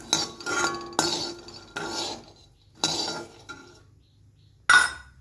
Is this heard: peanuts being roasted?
yes